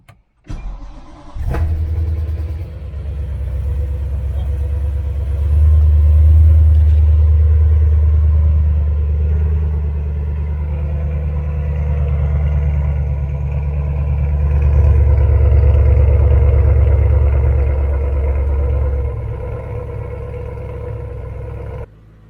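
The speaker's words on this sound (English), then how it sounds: "All right, cold start after a few weeks." A BMW E92 M3 engine cold-starts after sitting for a few weeks. A sharp crank catches into a loud, deep, rumbling idle that swells and settles steadily, close up, with no talking.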